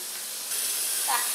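Tap water pours in a steady hiss into a bowl of vegetables being washed, close and continuous, with a gurgling swirl rising near the end.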